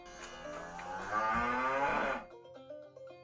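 A cow lets out a long, loud, drawn-out moo, then a second, lower bellow follows, with other cattle nearby on open farmland.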